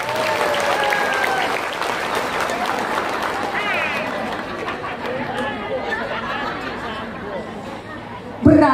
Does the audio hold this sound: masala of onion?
no